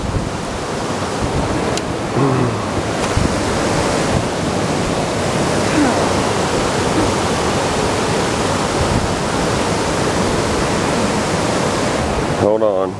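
Waterfall at a riverside fishing spot, a loud, constant broadband rush of falling water filling the whole stretch without break, with a brief knock near the end.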